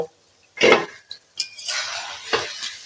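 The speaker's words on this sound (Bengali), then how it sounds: "আমি দিয়ে দেব একবার এই ঢাকাটা দিয়ে দিচ্ছি এক মিনিটের জন্য" A metal lid is handled on a cooking pot of fish and cauliflower curry, making a sharp close clank followed by lighter clinks and scraping, with faint kitchen background sound and no talking.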